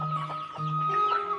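Chickens cluck in a rural Indonesian village yard, a steady run of close, fairly loud calls from several fowl with a tonal hum underneath.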